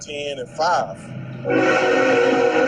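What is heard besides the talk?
passing train with horn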